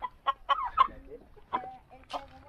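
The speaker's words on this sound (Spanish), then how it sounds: "ahí está el gallo" A rooster clucks and calls in a series of short, fairly close bursts, with brief pauses between them and a last louder call near the end, heard alone with no talk.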